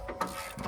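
A ratchet wrench clicks in short bursts while loosening a front suspension bolt on a Ford F150 4x4, close and moderately loud, with brief mechanical rattles.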